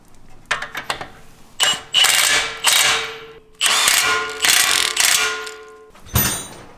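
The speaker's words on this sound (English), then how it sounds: "tighten up these castle nuts, torque them to 55 foot-pounds of torque" A ratchet with a 22mm socket tightens castle nuts on a Jeep JL Wrangler's steering tie rod and drag link, giving several close, loud bursts of rapid clicking with short gaps between them.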